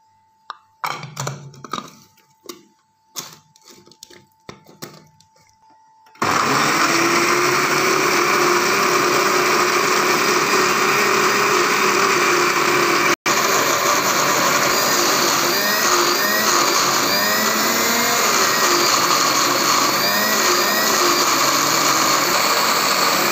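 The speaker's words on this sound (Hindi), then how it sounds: "अब इसमें थोड़ा सा पानी ऐड करते हैं और इसको 2 मिनट के लिए ग्राइंड कर लेते हैं।" A kitchen grinder blends spices with water into chutney for potato fritters, a loud steady whirring motor that starts abruptly after a few quieter knocks and runs continuously with a short break.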